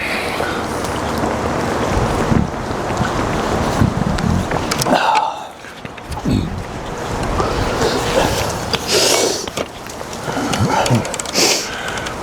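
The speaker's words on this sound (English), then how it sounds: "it's a little windy today." Gusty wind buffets the microphone continuously in a park, rumbling and crackling loudly with brief lulls, alongside outdoor ambience.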